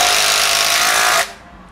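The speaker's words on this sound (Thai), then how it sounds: "โอเคผมจะใช้โหมดที่เจาะแรงที่สุดนะครับ" A Makita 40V cordless hammer drill runs in its strongest drilling mode, a loud, steady, harsh grinding roar that cuts off abruptly partway through, leaving only faint room noise.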